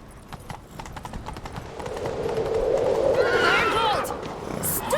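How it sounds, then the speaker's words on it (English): A horse galloping in The Witcher 3, rapid drumming hooves building in loudness, then a loud shrill whinny near the end, close by with a voice briefly heard. "Grab a horse, we'll chase him down."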